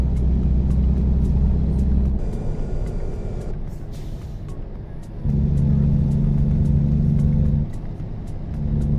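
An oversized-load truck in American Truck Simulator rumbles steadily with a low engine drone, easing off mid-stretch and then swelling again, with faint air-brake-like hiss and no talk.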